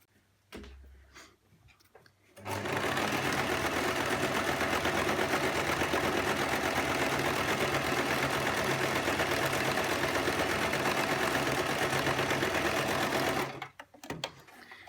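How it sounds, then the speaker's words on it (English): A sewing machine zigzag-stitches along the raw edges of fabric pieces for an A-line skirt, running in one loud, steady, continuous burst of rapid whirring after a brief quiet start, then stopping near the end. "I'm now going to start to zigzag every edge apart from the top of all three of these pieces."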